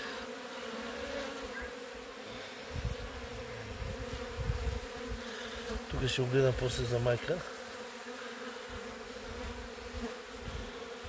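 Honeybees swarm around a beehive, young bees from a swarm raiding another colony's hive, giving a steady close drone of buzzing wings throughout, with a brief spoken voice partway through.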